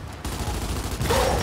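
Rapid gunfire from the Gears 5 shooter in an arena Horde match, a dense burst of close, loud shots rattling over a steady combat din and growing harsher toward the end.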